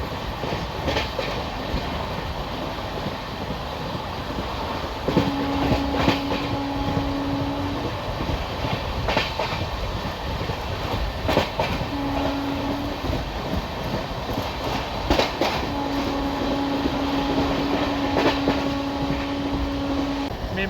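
A MEMU train rolls into a crossing on the single-track Konkan Railway, a steady rumbling run with rhythmic clatter and a few sharp clanks, punctuated by long horn-like tones sounding at intervals.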